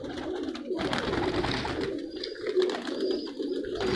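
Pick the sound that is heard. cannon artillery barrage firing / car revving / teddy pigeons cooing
teddy pigeons cooing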